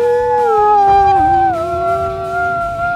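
A dog in the Roblox game Lucky Block Battlegrounds lets out a single loud, close, drawn-out howl that slides up and down in pitch for about three seconds with no talk over it.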